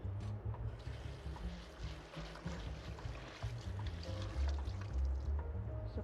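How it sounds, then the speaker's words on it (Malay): Running water rinsing soaked glutinous rice in a kitchen, a steady close splashing and pouring flow with low gurgles, continuous and moderately quiet throughout. "So pulut yang dah ditapis ni kita bilas sikit."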